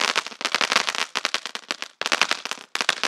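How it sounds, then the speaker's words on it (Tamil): A Wanted Gun Sivakasi firecracker going off, with a loud, rapid crackling string of sharp pops in fast bursts that stop and restart three times. "என்ன ப்ரோ கன்னு மாதிரியே சுடுது போல டப்பு டப்புன்னு."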